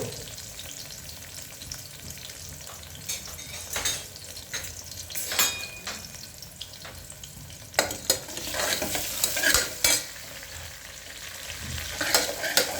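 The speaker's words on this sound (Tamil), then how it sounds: "வெங்காயத்தை போட்டு நல்லா வதக்கிக்கோங்க." Onions being sautéed in a pan, a soft steady sizzle broken by repeated scraping stirs and occasional clinks of a utensil against the pan, fairly quiet and close.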